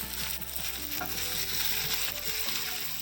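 Cumin, poppy seeds and fenugreek seeds frying in oil for a mushroom and sprouts curry, a steady close sizzle with crackling pops and occasional stirring scrapes, no voices.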